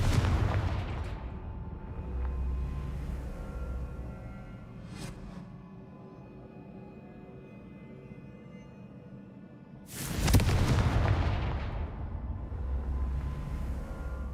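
A Confringo fire-blast spell cast in Hogwarts Legacy bursts out as a loud, booming blast near the end, after a brief sharp crack earlier over a low, rumbling game ambience.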